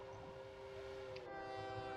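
A train pulls in inside a train simulation video game, with a long, loud horn blast held over the rumble of the rail cars. The horn brightens partway through, and there is no talking.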